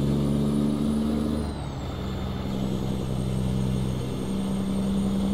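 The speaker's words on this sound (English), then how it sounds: "This Kenworth K100 is a great older truck. I love driving it. I love the sound of it as well." Low steady diesel drone of a Kenworth K100 truck cruising in American Truck Simulator, a constant engine hum with a brief hiss and shift in tone partway through, no talk.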